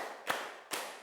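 Two crisp hand claps about half a second apart, close and distinct over a low background hiss, part of a counted clapping rhythm in a classroom.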